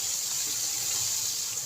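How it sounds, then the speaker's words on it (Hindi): Water runs steadily into a cooking pan of spiced tomatoes for a potato masala pulao, a continuous close gushing pour with no talking. "तो अब इसके अंदर हम थोड़ा सा पानी ऐड करेंगे ताकि ये मसाले इसमें जो है लगे ना"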